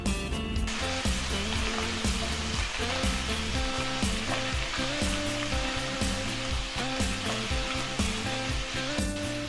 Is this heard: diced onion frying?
yes